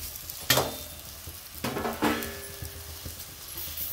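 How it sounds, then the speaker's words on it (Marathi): Fried brinjal pieces tipped into sautéed masala in a pan for a spicy Bhogi mixed vegetable dish, with a sharp clatter and burst of sizzling followed by scraping stirs and steady frying, close and fairly loud. "आता मी वांगे आपले परतलेले टाकणार आहे. आता वांगे टाकून देऊ."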